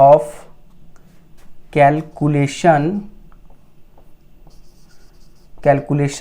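Writing sounds from a lecture on circuit calculations fill the quiet gaps, soft and faint between bursts of a man's close speech.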